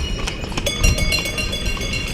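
Horse-drawn carts in Seville pass by with a rapid, rhythmic clip-clop of hooves on pavement, fairly near over street noise.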